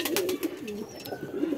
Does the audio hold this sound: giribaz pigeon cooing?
yes